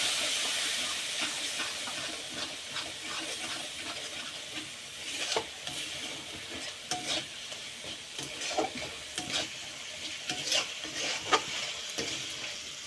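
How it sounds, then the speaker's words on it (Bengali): Ground spices (turmeric, chilli powder, Kashmiri red chilli) frying with a splash of water in a pan for a chicken and jackfruit curry, a steady soft sizzle and hiss broken by repeated scrapes and stirs. "এইবার ভালো করে কষিয়ে নেব।"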